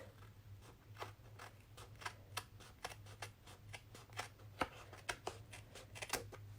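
Scissors trimming excess cardstock from a handmade masculine get well card, a run of quiet, crisp snips at an irregular pace over a low steady hum.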